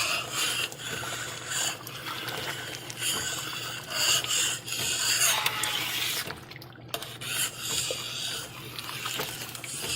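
Homemade spaghetti sauce cooking down in a pot for canning, stirred with a utensil: soft scraping and rubbing strokes with wet bubbling and popping, close and moderately quiet, in uneven bursts with brief pauses.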